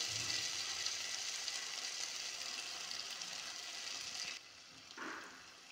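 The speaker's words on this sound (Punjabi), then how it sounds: "ਤੜਕਾ ਜਿਹੜਾ ਲਾਇਆ ਆਪਾਂ ਗੈਸ ਤੇ ਲਾਇਆ" A tempering (tadka) for saag sizzles in hot oil over a gas flame, a steady close hiss that cuts out abruptly near the end, followed by a brief softer sizzle.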